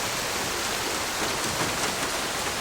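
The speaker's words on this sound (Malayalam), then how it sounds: "എന്തൊരു മഴ." Heavy rain falls in a dense, even hiss that stays constant throughout, close and enveloping, with no voices over it.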